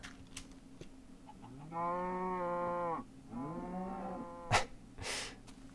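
A cow in the Minecraft video game lets out two drawn-out moos in a row, each lasting over a second and clear in the foreground, with a few soft clicks and a short burst of noise around them.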